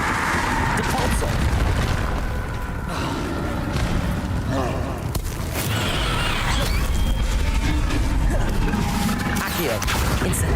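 Spell combat in the video game Hogwarts Legacy: dense, continuous magical blasts, crashes and booming impacts layered over game music and effects, loud and busy throughout, with a voice shouting spell names over it.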